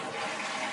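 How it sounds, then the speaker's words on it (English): A household toilet is flushed with its handle held down to drain the tank before removal, giving a brief, even rush of water close by. "So we flush the toilet and hold the handle down."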